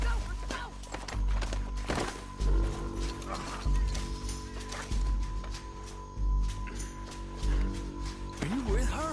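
Horses gallop away in Red Dead Redemption 2, a rapid drumming of hooves with heavy low thumps repeating across the stretch, loud and close, under shouting voices.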